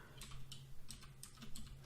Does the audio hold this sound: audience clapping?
no